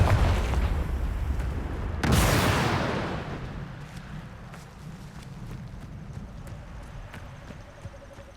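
A Confringo blasting spell explodes in Hogwarts Legacy as one loud, close, sharp boom that rolls off slowly. Busy game sounds and rhythmic hoof-like thuds run underneath.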